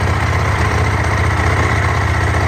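A Ducati 996 motorcycle engine idles while warming up at a constant low rumble, loud and close, with no change in revs throughout.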